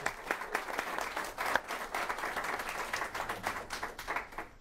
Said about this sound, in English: let's give this incredible team a round of applause.